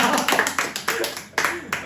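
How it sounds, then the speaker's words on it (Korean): A small group claps together in short bursts, sharp overlapping hand slaps repeating in a quick irregular rhythm at close range for about two seconds, with no talking over them. "박수."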